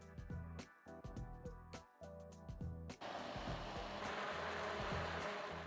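A few clinks and taps, then a blender roars to life and runs steadily, loud and continuous, churning a simmered butter chicken sauce.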